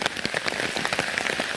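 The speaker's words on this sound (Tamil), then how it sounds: "கடும் மழை பெய்ய ஆரம்பிச்சிருக்கு பாருங்கள்." Heavy cyclone rain pours steadily in Chavakachcheri near Jaffna, a dense, loud patter of drops striking surfaces throughout with no voices.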